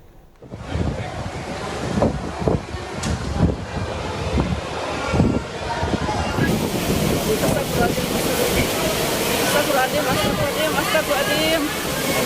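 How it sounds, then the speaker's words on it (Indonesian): Strong gusting wind roars steadily and loudly during a windstorm in Bogor, West Java, with heavy microphone buffeting and a few faint voices underneath. "angin kencang membuat kaca pintu masuk Mall Botani pecah dan papan reklame roboh di Bogor, Jawa Barat"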